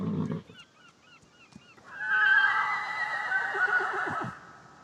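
A horse neighs loudly in a long, high whinny near the microphone, preceded by a few short honking calls and a soft thump.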